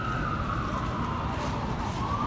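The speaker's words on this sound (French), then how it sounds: "j'entends une sirène" An emergency vehicle's siren wails along a street in Midtown Manhattan, New York, near Sixth Avenue and 55th Street. Its tone slides slowly downward, heard at a moderate distance over a constant wash of city traffic noise.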